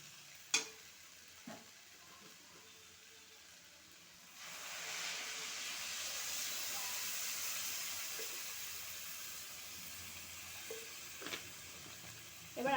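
Water poured into a hot pan sets off a sudden broad hiss of steam that swells partway through and holds steady, with a few sharp clinks of utensils before and after.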